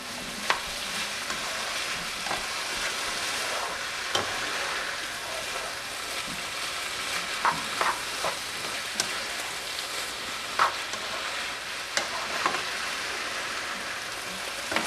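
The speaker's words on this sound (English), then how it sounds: "we're going to brown our meat and cook our onions and mushrooms and black olives" Ground meat browning in a pan with onions, mushrooms and black olives for lasagna gives a steady, moderate sizzle, with occasional scrapes and clicks from stirring throughout.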